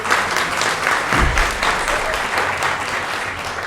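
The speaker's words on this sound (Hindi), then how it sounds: "अच्छी सी तालियां बजाइए" An audience at an awards open-mic event claps continuously, a loud, dense wash of applause filling the room with no voices over it.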